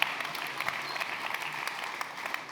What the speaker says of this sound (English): but yeah, the applause.